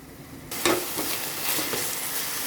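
Sliced onion, green chilies and ginger sizzle in hot oil with fenugreek powder as a spoon stirs the pan. The steady frying hiss starts suddenly and stays close and even, with scraping stir sounds on top.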